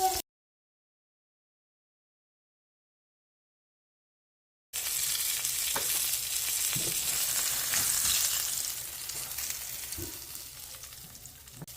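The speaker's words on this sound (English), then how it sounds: "Let that butter melt down and then turn my meat." Cube steak frying in melted butter in a pan makes a steady, dense sizzle with occasional soft pops and stirring knocks. It starts after a stretch of silence, stays close and fairly loud, and there is no talking.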